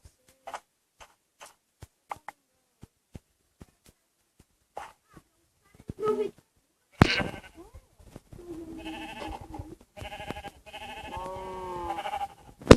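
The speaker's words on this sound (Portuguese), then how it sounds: "porque tem bastante ovelha" Sheep bleat in a video game, several wavering calls in the second half following scattered sharp clicks, with a voice talking over them.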